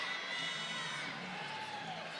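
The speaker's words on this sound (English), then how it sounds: "asking for some noise from the crowd" Crowd cheering and shouting at a college gymnastics meet between Missouri and Auburn, a steady, loud wash of voices and whoops filling the arena with no break.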